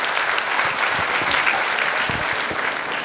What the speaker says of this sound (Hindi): मैं चाहूँगा एक बार जोरदार तालियां स्कूल के 25 साल होने पे आप बजाएं